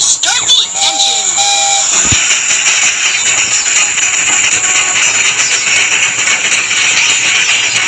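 A steam-style train whistle and engine start-up in the Baby Bus train game, two short whistle tones, then a rising hiss that settles into a steady, loud rattling chug.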